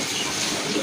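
An uncommon domestic pigeon with a large crest coos softly within a dense, steady wash of background noise that runs through the whole brief moment.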